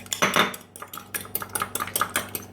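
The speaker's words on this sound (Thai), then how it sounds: "ใส่น้ำมันโอลิฟตามประมาณ ขนาดนี้ค่ะแล้วก็คนเข้าไป" A utensil clinks and scrapes quickly against a bowl as olive oil is stirred into a raw egg for a hair mask. Loud, close, rapid taps and clatters repeat in a busy rhythm, with no voices.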